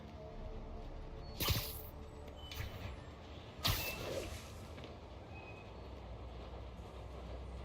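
Subway train passing in Marvel's Spider-Man Remastered, a low rumbling rush with two sharp hissing or screeching surges, one early and one midway, under a steady background roar.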